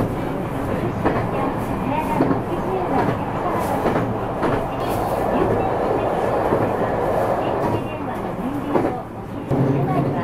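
A local one-man train on the San'in Main Line runs steadily from Sonobe, heard from inside the car as a continuous rumble with rhythmic wheel clatter on the rails, loud and unbroken throughout.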